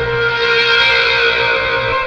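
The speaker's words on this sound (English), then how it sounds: "heaps of distortion, it's going to give it, you know, that distorted guitar sound" A sustained, heavily distorted synthesizer chord played on a LinnStrument drones with a gritty, buzzing, guitar-like tone, loud and unbroken throughout.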